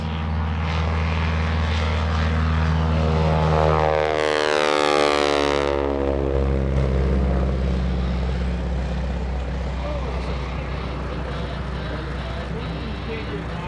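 A T-6 Texan propeller plane's 600-plus horsepower engine roars loudly at full power on its takeoff roll at an air show, swelling as it passes close by then receding, its rising whine sweeping through the roar.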